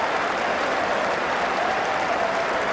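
Cricket crowd at Lord's during the 2005 Ashes first Test, applauding and cheering in a steady, dense roar that fills the whole stretch without a break.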